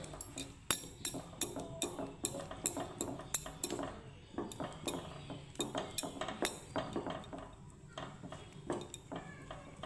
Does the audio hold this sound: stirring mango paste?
yes